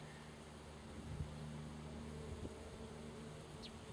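A steady, low drone of many young honeybees buzzing continuously at a hive, fairly close, with a few brief louder passes.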